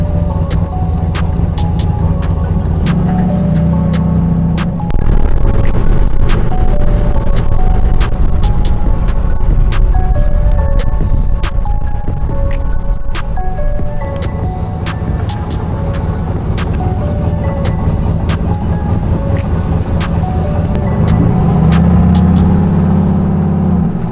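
A turbocharged Chevrolet Silverado truck on a test drive drones loudly and steadily from inside the cab, with the engine swelling in a couple of stretches as it accelerates, no talking.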